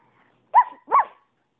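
A dog gives two quick, close barks about half a second apart, against near silence.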